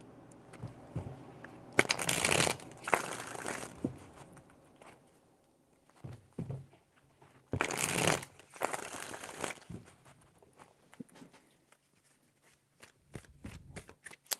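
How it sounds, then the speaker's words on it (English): Two bursts of tarot cards being riffled and shuffled, separated by quieter pauses with small taps and handling noises. "Four more shuffles."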